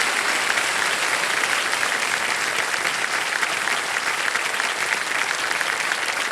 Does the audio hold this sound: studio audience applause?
yes